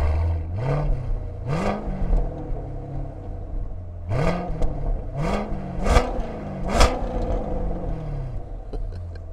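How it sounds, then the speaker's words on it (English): A Chevrolet C7 Corvette engine idles with a low rumble, then blips through a handful of short, sharp revs that rise and fall, each one close and clear, with no talking. "Get a couple little revs and see what it sounds like."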